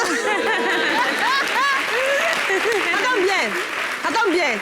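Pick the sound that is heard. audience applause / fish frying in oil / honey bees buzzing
audience applause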